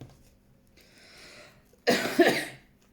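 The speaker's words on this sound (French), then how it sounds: "Je tousse" A single sharp cough bursts out after a brief, quiet breathy sound, close and fairly loud.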